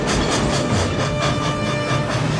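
An old steam train from Back to the Future Part III rolls along the rails with a steady, loud clickety-clack rhythm and a dense rumbling roar throughout. No one speaks.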